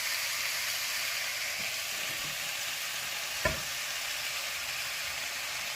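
Spicy onion fries in a pan as it is stirred for a meat-and-spring-onion matlouh, a quiet, steady sizzle with faint scraping and one brief knock, no talk.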